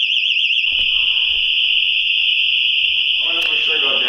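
A house security alarm blares loud and continuous indoors, a piercing warbling siren tone that never lets up, with faint talk and movement underneath.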